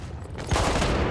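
Shotgun fire in Battlefield 1 comes as a single loud, close blast that bursts in halfway through a short stretch of noisy game ambience.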